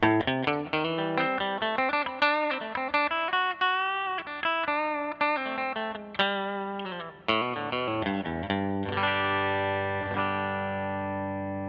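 Bright, twangy electric guitar notes and chords from a G&L Doheny bridge pickup, played clean with a slightly plunky attack, ringing out alone without any talking.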